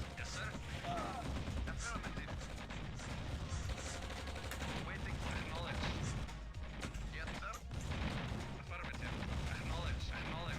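Dense, continuous gunfire crackles throughout as units fire their weapons in the real-time strategy game C&C Red Alert, layered with rapid bursts and heavier explosive impacts.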